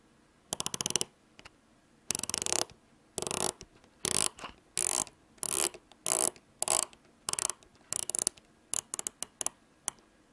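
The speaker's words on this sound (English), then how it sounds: "let's listen to some bezel action" Rotating bezel on a Timex M79 watch ratchets in close, crisp clicks, with bursts of quick ticks separated by short pauses as it turns.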